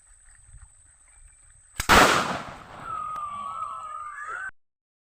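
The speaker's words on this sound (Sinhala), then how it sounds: "මම කරවල පෙන්වන්නම් මේ වෙඩිල්ල පුපුරන හැටි" A firecracker used to scare off elephants goes off in one loud close bang after a quiet lead-in, followed by a fading hissing rush and a thin whistling tone before it cuts out.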